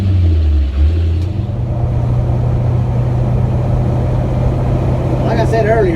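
A 1966 Chevrolet C10 pickup with a swapped engine and a four-speed, cruising on the road, gives a steady low engine drone that holds for the whole stretch, with a short whistling tone rising near the end.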